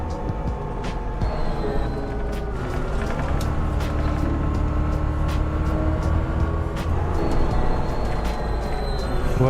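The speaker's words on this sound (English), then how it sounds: "I'm loving the sound of this bus, seriously, it's wicked." A bus engine in the driving game City Transport Simulator hums steadily with low rumble and shifting tones as it pulls through traffic, continuous and fairly loud throughout.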